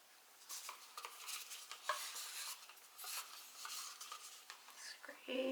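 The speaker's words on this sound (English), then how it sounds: "Scrape it out." A tool scrapes leftover acrylic pour paint out of a cup in a series of quiet, gritty scraping strokes, irregular and close, with a small knock near the end.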